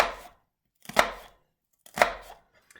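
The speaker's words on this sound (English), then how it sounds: "using the heel of the knife and your fingers underneath, you chop your onion" A big knife chops an onion on a chopping board, three crisp separate strikes about a second apart, close and clear with silence between them.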